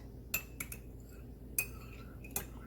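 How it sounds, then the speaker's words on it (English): A spoon clinks against a mug while crushed mint is stirred into ginger tea, several sharp, bright taps in two quick clusters, close and quiet with no talking. "And you just kind of stir it in there like that."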